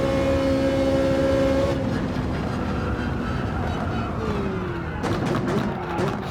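A Ferrari 458 Italia engine in Gran Turismo 7 drones with a steady tonal note, dropping in pitch and then revving again near the end, loud and continuous.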